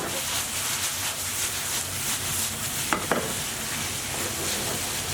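Curry powder, butter and ground turmeric sizzle and fry in a pan, a steady soft crackle with a couple of sharp clinks of a utensil stirring near the middle.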